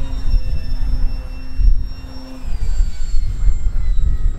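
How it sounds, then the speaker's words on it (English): A 3D printed RC glider makes a slow, low flyby about ten meters up, its electric motor whining with shifting pitch over wind buffeting and rumble, loud and close throughout. "I'm going to try a slow flyby. Not a good idea, but to see the stall speed."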